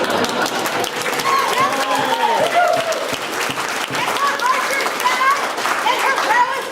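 A crowd at a costumed court ball applauding and cheering, with dense steady clapping mixed with shouts and overlapping voices throughout.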